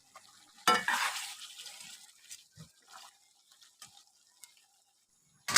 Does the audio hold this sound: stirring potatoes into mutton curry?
yes